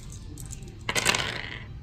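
A handful of dice rolled and clattering onto a tabletop during a Star Wars Legion miniatures game, one quick rattling burst that settles after about a second, close and alone.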